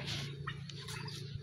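Turkeys at feeding time let out a soft, distant gobble within a murky, continuous farmyard background.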